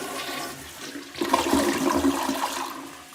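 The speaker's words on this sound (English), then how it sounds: "I'm gonna go ahead and flush it" A newly installed American Standard Cadet 3 tall-height elongated toilet flushes close by: a low rush of water swells and gurgles, peaks, then drains away with a fading swirl.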